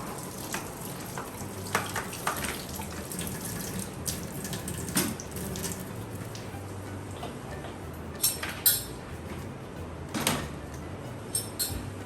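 A kitchen tap runs steadily during washing up, a continuous hiss of water under scattered clinks and knocks of dishes being handled, close and moderately loud.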